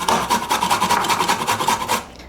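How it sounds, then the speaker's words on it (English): Fresh ginger raked across a grater in quick, even strokes, about a dozen rhythmic rasping scrapes close up and alone, stopping abruptly at the end. "I have some ginger, which I'll grate."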